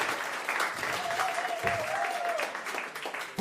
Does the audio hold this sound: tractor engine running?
no